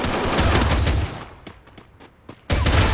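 Bursts of rapid gunfire in the Free Fire video game, a dense loud volley, then a few scattered single shots, and another heavy burst at the end.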